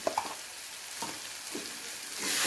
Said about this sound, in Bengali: এবারে সমস্ত মশলাগুলোকে একসাথে ভালো করে কষিয়ে নেব।